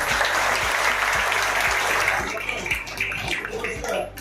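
An audience applauds at a foundation event distributing school supplies to students, with dense clapping fading somewhat in the latter half while a voice speaks faintly underneath.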